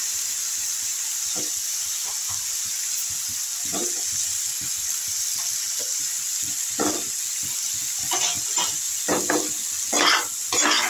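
Fried potatoes tipped into a pan of masala with salt and a splash of water for a fish curry, giving a steady close sizzle with scattered bursts of crackling and stirring scrapes that grow louder near the end.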